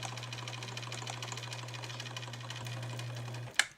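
A sewing machine runs fast under heavy foot-pedal pressure, a rapid even clatter over a steady motor hum that cuts off near the end with a sharp clack.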